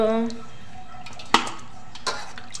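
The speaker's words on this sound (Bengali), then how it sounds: "এই তো আমি খাসির মাংস ধুয়ে নিচ্ছি।" Goat meat is rinsed with water in a metal pot, giving close clattering knocks of the vessel and splashes, with two sharper clanks against a quiet background after a short voice at the start.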